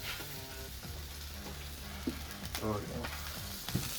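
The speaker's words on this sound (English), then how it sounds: "You can hear them sizzling" Food just pulled from an oven sizzles and crackles steadily throughout, with a few clinks and soft handling noises, and a person speaks briefly.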